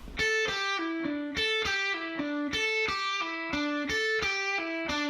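Slowed-down distorted electric guitar lick, one upstroke followed by two downstrokes with a pull-off in the middle, repeated several times in an even, deliberate pattern, clear and unaccompanied.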